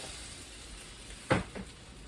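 French toast sizzles on a grill, a faint steady frying hiss with a short louder crackle burst partway through and a smaller one just after, no talk.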